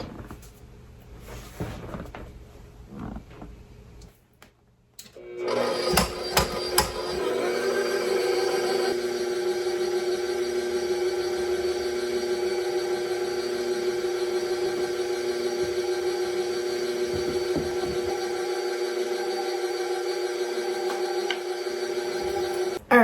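An electric mixer churns chocolate and vanilla ice cream base, starting after a few clunks and then holding a loud, steady motor whine with a constant drone that runs unbroken to the end.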